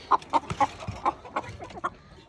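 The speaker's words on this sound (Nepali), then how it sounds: "यो चाहिँ नयाँ जातको कुखुरा" A chicken of a new local breed clucks close by in a quick, uneven series of short, sharp clucks.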